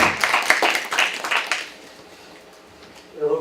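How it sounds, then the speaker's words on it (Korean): An audience at a lecture gives brief applause, a burst of many hands clapping close and lively that fades out after about a second and a half, and a voice starts near the end. "박수로"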